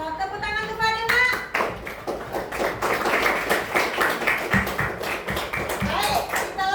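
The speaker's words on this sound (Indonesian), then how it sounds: "Masya Allah, tepuk tangan kepada Mak." A voice starts briefly before a room of people breaks into brisk, rhythmic group clapping for a mother during a religious education class, the claps close and continuous to the end.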